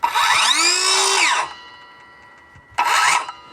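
An Einhell cordless circular saw used on a wooden board whirs up to a loud, high motor whine that holds and then winds down. After a short pause a second, briefer burst follows, close by and with no voices.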